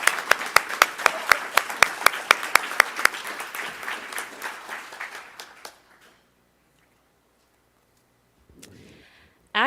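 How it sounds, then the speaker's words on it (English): Audience applause at a school board meeting, a small group clapping with distinct individual claps that fade out over about six seconds, followed by near silence and a brief voice at the end. "let's applaud for her anyway"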